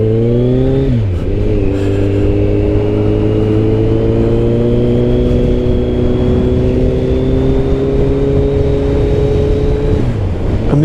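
A motorcycle approaches at the foot of Macquarie Pass, a loud steady engine drone with shifting harmonic pitch and gear changes near the start and end, close and without talk.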